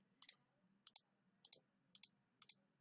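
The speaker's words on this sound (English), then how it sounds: "So I'm clicking a lot." A computer mouse clicks in a quiet room, five crisp paired clicks at even intervals. Each pair comes from a quick press and release, and the sound is close and faint.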